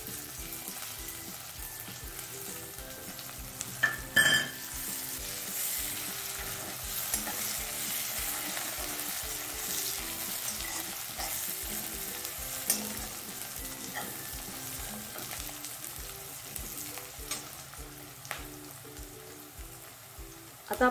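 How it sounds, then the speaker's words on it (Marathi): Curry leaves crackling and sputtering in hot oil with asafoetida for a batata vada tempering, a dense continuous sizzle with scattered pops and occasional stirring knocks, close and steady throughout, no voices. "आता आपण घालणार आहोत ह्यात कढीपत्ता।"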